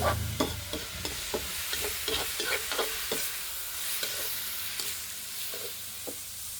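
Egg stir-fried with gourd sizzles steadily in a pan, punctuated by repeated scraping strokes of a spatula in an irregular rhythm, close and clear without any talking.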